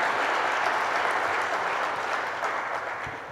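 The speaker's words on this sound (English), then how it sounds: "Let's give her a great round of applause." An audience applauds Queens Borough President Melinda Katz with steady, dense clapping that fades slightly toward the end.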